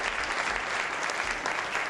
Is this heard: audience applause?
yes